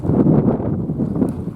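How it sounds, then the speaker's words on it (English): Gusty desert wind in Tucson, Arizona, roaring low and steady against the microphone in broad rumbling surges, with no voices heard. "Look at that wind again."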